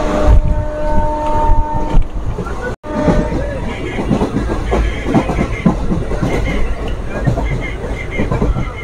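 The 03020 Azimganj–Krishnanagar City passenger train runs on, loud and close, with a steady rumble and rhythmic clack of wheels on rails, a brief dropout near the three-second mark and some voices faint beneath.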